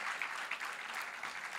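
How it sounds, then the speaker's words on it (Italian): Audience applause at a Milan literary and music event, an even wash of many hands clapping, fairly distant and soft, with no voices. "ancora un applauso"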